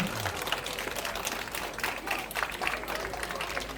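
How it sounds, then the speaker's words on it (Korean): Audience applause during a traditional Korean wedding ceremony, steady and moderately distant clapping filling the whole stretch without a clear break, with faint voices mixed in underneath. "박수 좀 많이 보내주세요"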